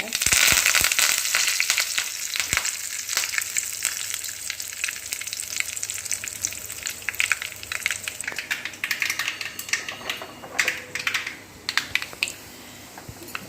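Curry leaves crackling and sizzling in hot oil for a tempering alongside urad dal, opening with a loud burst of popping spatters that settles into steady frying hiss with scattered sharp crackles, close by.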